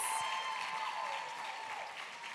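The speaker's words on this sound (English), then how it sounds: "Another round of applause for all of our contestants." Audience at the Miss Massachusetts Teen pageant applauding the contestants, a brief stretch of moderate clapping with a thin tonal ring and a faint whoop mixed in, trailing lower toward the close.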